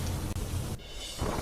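Heavy rain roars in a steady wash while a low rumble of thunder rolls beneath it, briefly dipping before the downpour surges again.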